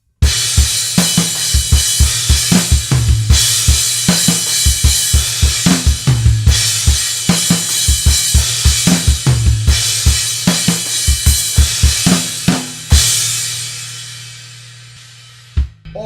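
A full drum kit plays a steady groove with triplet fills and crash cymbals, driving hits repeating for about thirteen seconds, then a final crash that rings out and decays.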